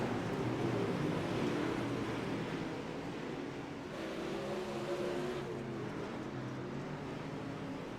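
Super late model race cars on a dirt track at night, a continuous loud engine roar that swells and fades slightly as the cars run side by side down the back straight.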